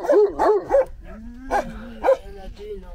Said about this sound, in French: là, on se fait un peu prendre d'assaut par les chiens